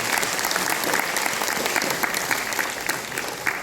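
A full hall gives loud, sustained applause at a Hindi comedy poetry gathering, a dense wash of many hands clapping steadily with no pause throughout.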